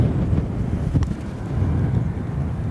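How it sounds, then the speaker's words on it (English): Wind gusts across an open golf course fairway, buffeting the microphone with a steady low roar that swells briefly and stays continuous throughout. "Gust from the gods, Romy."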